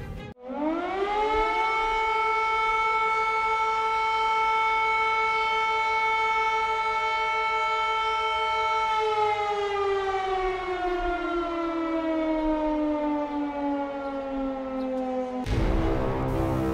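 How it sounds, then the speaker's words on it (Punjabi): An air raid siren wails steadily at a high pitch for a long stretch, then winds down slowly, loud and sustained. "ਸਾਡੇ ਕੋਲ ਇਸ ਸਾਇਰਨ ਦੀ ਕਲਿੱਪ ਮੌਜੂਦ ਹੈ,"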